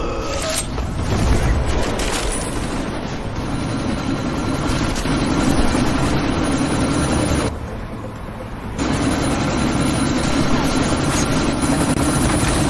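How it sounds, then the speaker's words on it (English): Helicopter in the Deus Ex: Mankind Divided video game, a loud, steady rotor and engine roar amid a sandstorm, dipping briefly midway before returning at full force. "you need to disable that chopper"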